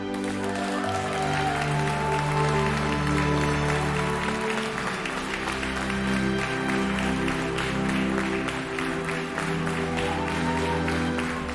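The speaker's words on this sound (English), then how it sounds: "But the seconds later, everyone started applauding." An audience applauds at the end of a school play, with steady, dense clapping throughout and no talk.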